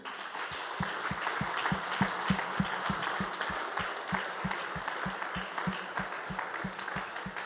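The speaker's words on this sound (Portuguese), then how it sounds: "Dê um aplauso ao Senhor." A church congregation applauds at the end of a worship service, steady rhythmic clapping that stays fairly faint and even for several seconds with no voices over it.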